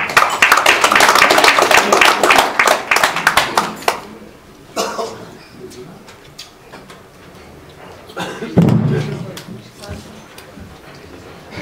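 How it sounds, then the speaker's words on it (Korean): An audience at a lecture applauding to welcome a speaker to the stage: a burst of fairly close clapping for about four seconds that then fades, followed by scattered taps, shuffling and a brief voice. "우리 뜨거운 박수로 장인준 박사님을 모시겠습니다"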